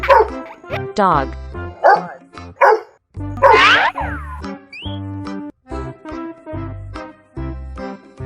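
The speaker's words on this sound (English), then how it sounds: "Dog." A dog barks in a series of short, punchy woofs spaced across the stretch, set against cheerful background music.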